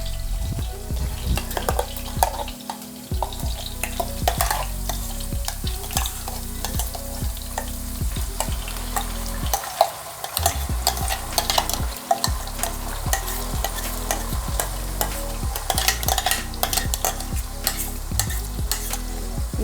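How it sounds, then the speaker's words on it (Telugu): Onion paste for a Telangana-style korameenu fish curry sizzles loudly in a pan while a spoon stirs and scrapes through it steadily, the frying continuous with a few brief pauses in the scraping. "ఈ ఆనియన్ పేస్ట్ పచ్చి వాసన పోయేంత వరకు బాగా మిక్స్ చేసుకోవాలి."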